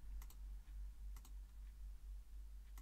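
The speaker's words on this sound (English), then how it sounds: "So literally by clicking on these" Mouse clicks in Cubase while setting MIDI arpeggio step sizes, a few sharp, faint, close clicks spaced irregularly over a low steady hum, no voices.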